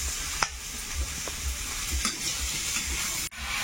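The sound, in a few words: potatoes frying and stirred in spice paste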